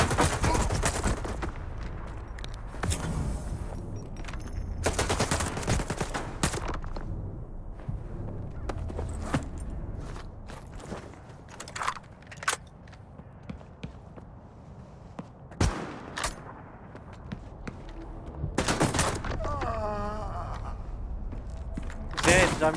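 Gunfire in the shooter game Stalker 2: repeated sharp shots and short bursts, some close and loud, scattered irregularly over a quieter background.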